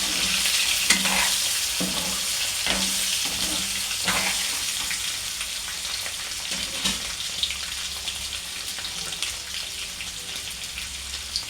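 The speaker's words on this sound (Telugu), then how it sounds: "ముక్కలు వేసుకుంటున్నాను. కొంచెం వేగాలి ముక్కలు." Potato pieces for potato curry frying in a pan, a steady crackling sizzle with several soft clunks of stirring early on, close and continuous.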